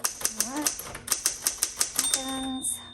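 Rapid mechanical key strikes on a 1973 Smith Corona Sterling manual typewriter, about a dozen sharp close clacks in quick rhythm, ending with a ringing bell-like tone near the end.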